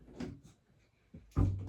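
A door in a home is pushed shut: a light scuff first, then a firm, close wooden thump near the end, in an otherwise quiet room.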